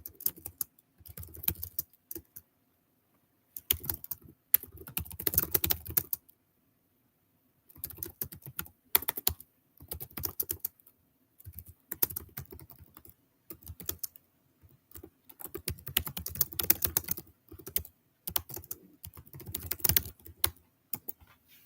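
Someone types a comment on a computer keyboard in irregular bursts of rapid clicking keystrokes, separated by short silent pauses, close and clear with no talking.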